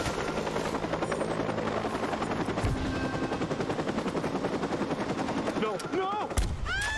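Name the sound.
helicopter in the Watch Dogs video game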